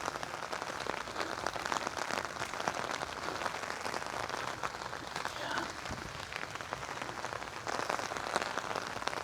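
Steady rain falls on a small mini farm of sweet potato and water spinach plants in the rainy season, a dense, even patter that goes on throughout, with no talk.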